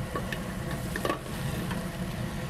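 Butter melting in a pan as it is swirled around before onions go in to caramelize, giving a steady, soft sizzle with faint scraping and stirring taps throughout.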